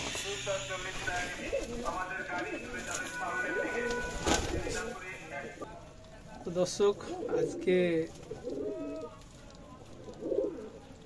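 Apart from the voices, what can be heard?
pigeons cooing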